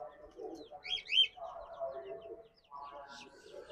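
Young bantam chicks of fancy breeds give a few brief, high chirps, soft and close. A person talks quietly at the same time.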